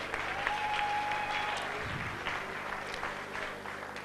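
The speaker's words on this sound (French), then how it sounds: "Acclamez très fort pour le pasteur Baruti" A church congregation applauds for pastor Baruti, sustained clapping from a crowd that stays steady throughout, with faint voices mixed in.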